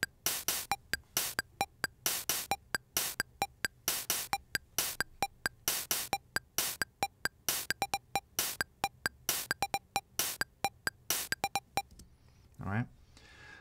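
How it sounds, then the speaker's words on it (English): A classic synthesizer from around 1981 plays a rapid sequence of short, bright, percussive notes in a steady, busy rhythm, loud and close, ending with a brief swelling tone. "this particular synthesizer, circa 1981, and it sounds like this."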